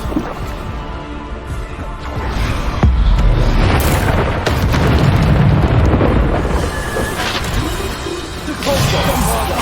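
Spell explosions from Bombarda and Descendo in the Hogwarts Legacy video game, heavy booming blasts and crashing impacts rolling one into another over a loud, dense battle mix.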